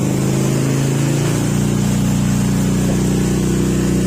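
A hard-starting engine running at high RPM, a steady loud drone with a strong low hum and constant roar that holds throughout without pause.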